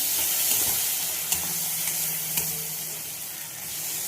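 Noodles cooking in a pan as tomato sauce goes in, giving a broad hissing sizzle with a few faint clicks of a utensil. The sizzle fades slightly toward the end, and no one talks.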